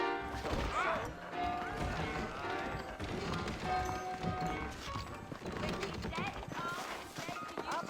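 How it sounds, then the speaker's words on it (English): Horse hooves clop steadily in a dense Red Dead Redemption soundscape, layered with music, effects and a voice talking over them. "I got the horses saddled up and ready out front."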